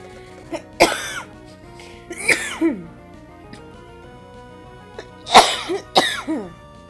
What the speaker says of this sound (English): I've been coughing on and on a lot today